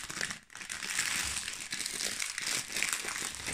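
A rainbow-coloured plastic package is crinkled and torn open up close, a continuous loud rustling and crackling with a brief pause near the start.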